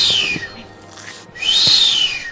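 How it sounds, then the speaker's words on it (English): A male booby gives a whistle display, two drawn-out high whistles that slide downward, clear and close with a short pause between them and no talking. "His whistle display shows he's eager."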